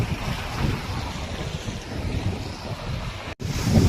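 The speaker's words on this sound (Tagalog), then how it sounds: "Grabe ang lakas ng daloy ng tubig." Strong floodwater rushes through a flood control channel during a typhoon, a steady loud broadband roar with a brief dropout near the end, heard alone without talk.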